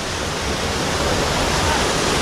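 Water rushes through a concrete channel near waterfalls, a loud, continuous broadband roar that holds steady throughout with no pauses.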